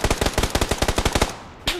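Gunfire in a video game rattles off in a fast, even burst of about fourteen loud, close shots, then stops, followed by one more sharp report.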